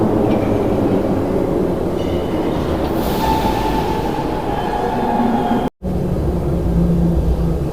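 A metro train runs through the underground, a loud continuous rumble of wheels and carriage noise with a faint squeal and a brief sharp dropout near the end, no voices heard.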